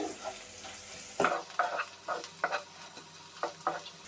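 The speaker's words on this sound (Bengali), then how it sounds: "তো সবগুলো উপকরণ একসাথে ভালো করে একটু ভেজে নিতে হবে।" Mixed vegetables and egg sizzle in a pan over medium heat while a spatula stirs and scrapes in a steady series of sharp strokes, close and alone over a constant frying hiss.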